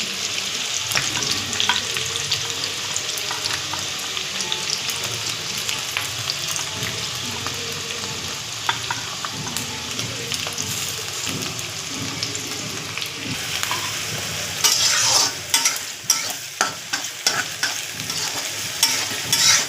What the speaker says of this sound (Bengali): একটু হালকা লালচে লালচে করে ভাজবো।